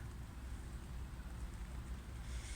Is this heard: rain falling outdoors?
yes